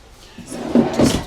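An RV bathroom drawer in a 2025 Keystone Cougar 316RLS slides open or shut, giving two soft, close knocks in quick succession with no talk.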